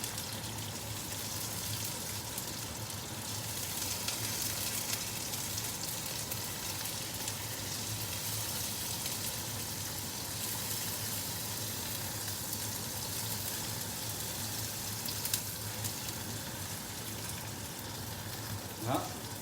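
Endives fry in a pan on a turned-down hotplate, giving a long, even, moderately quiet sizzle with faint crackles and the odd louder pop.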